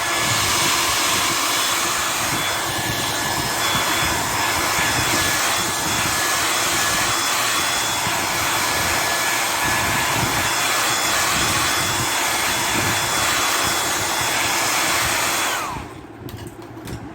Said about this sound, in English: common hair dryer.